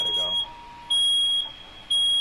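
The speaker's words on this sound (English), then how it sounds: "I'll lower the smoke detector a little bit more, because I can hear it with the headphones on" A smoke detector beeps in a home basement, sending out repeated high-pitched electronic tones in roughly one-second bursts with short gaps between them. The beeps are fairly close and steady.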